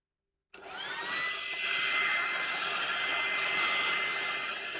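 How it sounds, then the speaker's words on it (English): A roughly 30-year-old hair dryer switches on after a moment of silence and runs with a steady, loud whooshing roar and a faint rising whine, close by. "getting my grandmother's old hairdryer"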